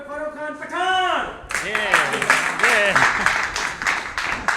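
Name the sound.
audience applause welcoming a guest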